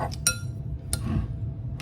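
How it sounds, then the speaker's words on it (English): Spoon clinking against a bowl while stirring cornbread batter of water, milk and egg, a few sharp close clinks over a soft scraping swish, no talk. "And you're gonna stir that all up"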